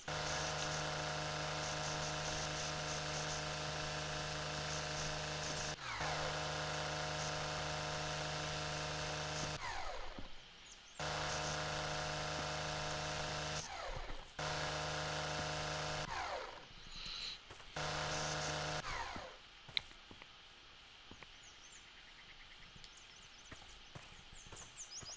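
Lawnmower in the video game Lawn Mowing Simulator drones loud and steady, broken by several abrupt cutouts and restarts, before dropping to a quieter rough idle near the end.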